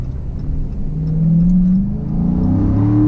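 A Dodge Scat Pack accelerates hard at full throttle on a road, its engine note rising steadily in a loud, close rumbling roar without any voices.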